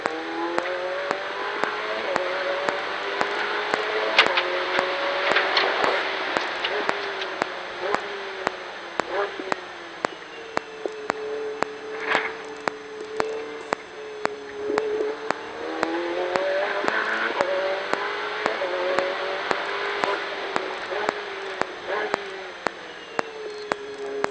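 A Ferrari 488 Challenge car accelerating on the track at Varano, its engine revving loudly from inside the car, pitch rising and falling through gear changes and rapid downshift pops, with a voice speaking over it.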